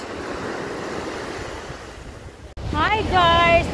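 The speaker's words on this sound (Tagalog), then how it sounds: "Di mi kaligo kay kusog kay baod." Strong ocean surf washing steadily onto a beach at Khorfakkan, a broad windy roar that continues under a burst of laughing, excited voices near the end.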